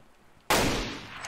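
A single sharp gunshot cracks out in a first-person shooter video game, sudden and loud, with a short fading tail.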